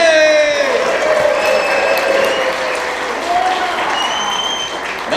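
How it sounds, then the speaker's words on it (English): Convention audience applauding and cheering a screaming-contest winner, sustained dense clapping with whoops and raised voices layered over it, loud and steady throughout. "Everybody applause!"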